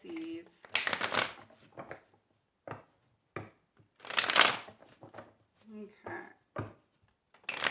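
A tarot card deck is shuffled in several quick riffling bursts, crisp papery flutters separated by pauses, with a person speaking in between.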